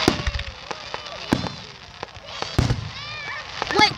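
Fireworks burst outdoors in a rapid series of sharp pops and crackles, some close and loud, others fainter, with whistling streaks between them and voices talking underneath.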